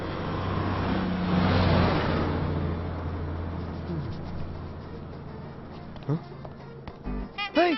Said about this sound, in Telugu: బస్ వెళ్ళిపోయింది.